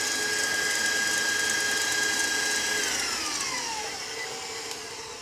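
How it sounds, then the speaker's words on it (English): A stand mixer whipping chocolate ganache runs with a steady high mechanical whine, then its pitch drops noticeably as the motor slows under the thickening mixture, continuing near and alone without talk. "I heard that mixer slow down"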